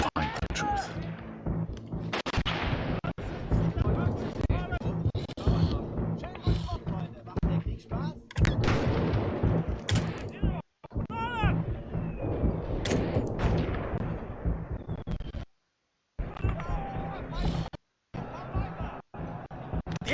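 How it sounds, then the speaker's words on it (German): Explosions and artillery fire from the World War 1 video game 11-11: Memories Retold crash and rumble almost continuously, with dense bursts and brief gaps, and voices talk over the battle. "Hier wird was gesprengt!"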